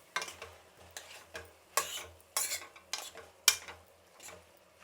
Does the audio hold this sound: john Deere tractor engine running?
no